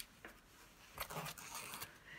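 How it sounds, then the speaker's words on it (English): Large fabric scissors hack through layered scrap fabric, with a few close, crisp cutting bursts and snips spread unevenly over about two seconds against quiet background. "bigger fabric scissors, and just hack on through each layer at a time"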